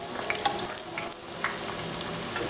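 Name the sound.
kimchi dumplings frying in a pan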